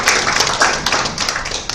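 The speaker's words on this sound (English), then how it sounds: "Anyway, round of applause for him." An audience at an agricultural business event gives a short round of applause, with steady, fairly loud clapping filling the whole brief moment.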